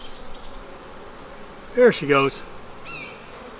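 Carniolan honeybees hum around their hive in a bee yard as the queen is returned, a soft steady buzz beneath a man's brief spoken remark.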